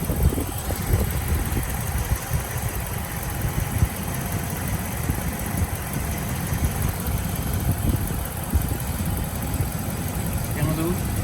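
A Dodge Ram Hemi engine with a bad lifter idles steadily and close by, a continuous rumble with a fast, faint ticking running through it for the whole stretch.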